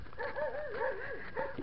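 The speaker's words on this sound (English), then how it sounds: "the dogs are ruining my outro" Dogs whine and whimper in a wavering, rising-and-falling cry with a brief yip, fairly close and continuous, with no talking over it.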